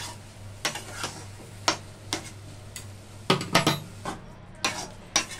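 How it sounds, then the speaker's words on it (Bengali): Semolina is stirred in a pan with a metal spoon, giving irregular knocks and scrapes against the pan every half second or so, close and dry, with no talking. "এবার এতে সুজি দেব। সুজিটা ভালো করে এতে নেড়ে নেব।"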